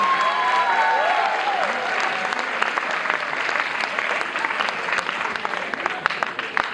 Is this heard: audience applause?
yes